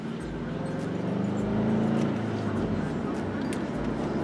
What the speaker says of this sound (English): I mentioned I like this exhaust. And that rumble go.